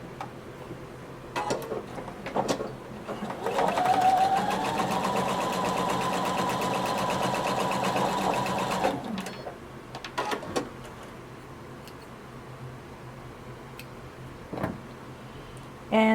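A sewing machine runs steadily for about five seconds, stitching the center back seam of a tie belt for a floor-length duster cardigan. Before and after the run come a few scattered clicks and fabric handling noises.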